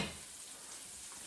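Garlic and green onion frying in a pan for broccoli beef, a faint, steady sizzle with a soft hiss and no voices over it.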